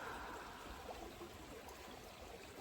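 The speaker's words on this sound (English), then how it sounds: "I hear the flow of this water behind me" An outdoor stream flows in a low, steady rush and trickle, fairly faint and continuous, with no voices.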